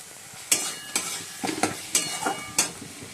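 Cauliflower florets stir-fried in a spice masala of ginger, green chilli, cumin, coriander powder and tomato, with sharp spoon-on-pan scrapes at an irregular rhythm over a soft sizzle; no voices.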